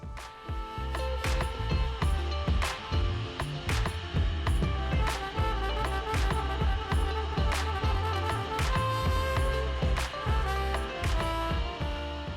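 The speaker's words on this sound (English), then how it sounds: "I wanted to end this video with this machine actually running" An automated blasting machine runs steadily with a rapid, regular clatter of repeated mechanical strikes and a constant hum underneath, continuous for the whole stretch.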